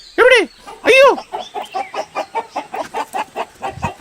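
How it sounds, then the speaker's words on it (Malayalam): Chickens make a noisy fuss. Two loud, sharp squawks come first, then a rapid run of close clucks that continues steadily to the end. "എന്താണാവും കോഴികളൊക്കെ എന്താ ഇങ്ങനെ ഒച്ച വെക്കുന്നത്?"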